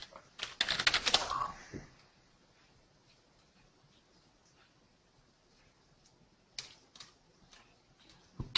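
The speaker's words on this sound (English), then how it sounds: "You guys aren't looking at me typing." Computer keyboard typing: a quick flurry of sharp keystrokes up close, then a long near-silent pause, then a few isolated taps, all at low volume.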